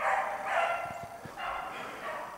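Beagle hounds bay while chasing a hare outdoors, their drawn-out cries rising and fading in several waves from a distance, with a few faint thumps in between.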